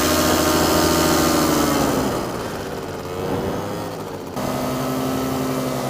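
A paramotor engine with a dented wooden propeller and a repaired exhaust drones steadily in flight, loud and continuous, dipping in pitch and volume for a couple of seconds before climbing back up.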